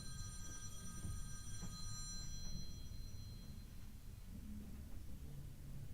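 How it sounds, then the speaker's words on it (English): A telephone rings in a room, its electronic bell trilling repeatedly for the first few seconds over low background rumble, then stopping. "There's my phone."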